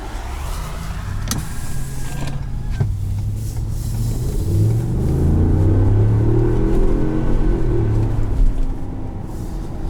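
A 2020 Ford F-250 Super Duty Tremor pickup with the 7.3-litre gasoline V8 accelerates hard with its wheels spinning, giving a loud, deep engine rumble that builds and holds over several seconds, with a few sharp mechanical clicks early on.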